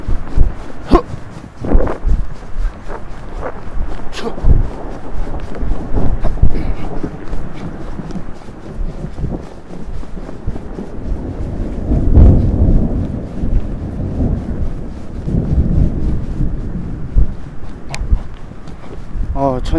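Thunder rumbles low and heavy as rain begins falling on the open Mongolian steppe, with wind buffeting the microphone and someone talking throughout.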